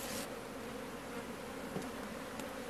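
Honey bees buzz in a dense, continuous drone during a hive inspection, close and fairly quiet, with no other sounds.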